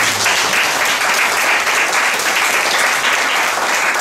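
A church congregation applauds in sustained, dense clapping, loud and even throughout, filling the room without pause.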